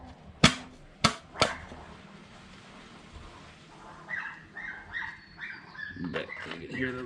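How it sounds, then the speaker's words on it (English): A small dog barks and yaps while chasing a car: three sharp, close barks at first, then a string of quicker, softer yips, with someone talking faintly beside a 2013 Kawasaki KX450 dirt bike. "If you can hear my dog in the background chasing the car."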